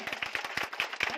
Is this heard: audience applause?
yes